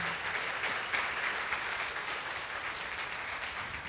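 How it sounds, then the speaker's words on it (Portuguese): A church congregation applauds during a sermon, a steady, dense wash of many hands clapping for several seconds, moderately loud and even throughout, with no talk over it. "Você pode aplaudir o Senhor pela pessoa do Espírito Santo."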